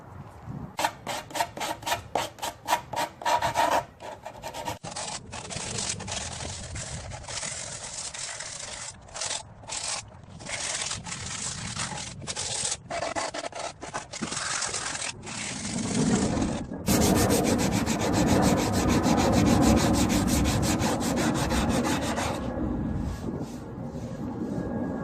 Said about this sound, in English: take some 80 grit sandpaper and work it down